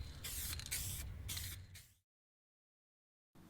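A spray gun lays base coat and clear coat onto a car panel in short hissing bursts, close and loud, followed by silence and then a brief resumed spray.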